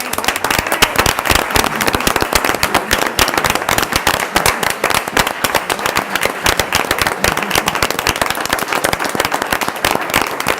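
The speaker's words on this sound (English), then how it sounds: "give Keon a big round of applause for it" Audience at a council meeting giving a big round of applause, dense loud clapping from many hands filling the room continuously, close with no speech over it.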